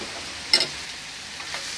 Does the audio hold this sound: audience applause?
no